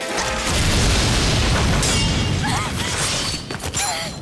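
In the Persona 3 FES video game, a gunshot summons a power with a shattering effect: a loud booming burst followed by glassy crackling and shimmering tones, with brief chirping effects near the end.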